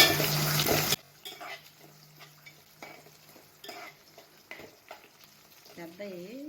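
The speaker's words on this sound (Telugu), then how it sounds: "ఇదిగోండి పచ్చిమిరపకాయలు వేసాము. వేగన వచ్చాయి కదా" Green chillies and onions frying in a pan for a Nellore-style small fish curry, a soft sizzle under intermittent utensil scrapes and stirring clinks, with a brief louder burst at the start.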